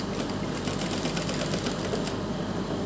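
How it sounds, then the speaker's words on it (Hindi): A sewing machine runs continuously while stitching along the neck of a blouse, a dense, even mechanical rattle close by, with no talking. "इस तरह से सिलाई लगाते हुए"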